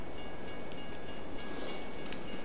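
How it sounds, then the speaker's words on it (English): A train in the Farming Simulator 22 video game rolls past with a steady, dense rumble and faint rhythmic clicks of wheels on track, continuous and fairly close, with no talk. "And there's the train."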